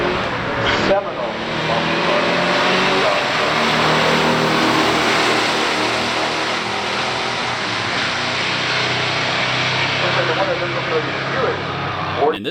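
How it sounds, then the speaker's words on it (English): A 1970 Buick GS455 four-speed and a 1968 Dodge Charger RT drag race, their V8 engines roaring loud and sustained as they launch and run down the strip, with a commentator's voice over the noise. "Here's a GS455 4-speed from 1970 in the left lane, and a Charger RT 1968"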